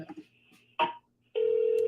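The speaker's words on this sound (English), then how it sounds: "Can you guys hear the phone ringing?" Telephone ringback on an outgoing call, a short synthetic tone burst, a pause, then a steady sustained ringing tone starting midway, with a brief keypad-like blip before it.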